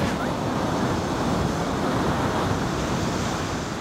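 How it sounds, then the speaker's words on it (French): Sea waves washing in on a rising tide, a steady loud roar of surf with wind buffeting the microphone, continuous throughout with no pause. "Daniel, la mer monte."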